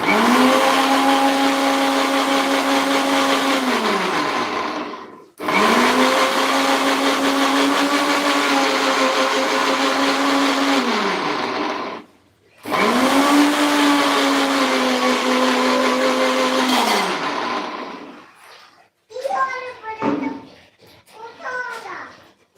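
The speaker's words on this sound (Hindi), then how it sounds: "वो छोटा वाले जार में ना अच्छे से ग्राइंड हो जाएगा" A mixer grinder whirs loudly in three long bursts separated by brief pauses as it grinds beetroot, cinnamon and black pepper in a small jar, followed by children talking.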